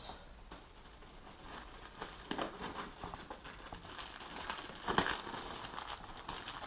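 Crinkly plastic packaging is pulled open around rollator adjustment levers, soft irregular rustles and crackles with a couple of louder tearing bursts, fairly quiet and close.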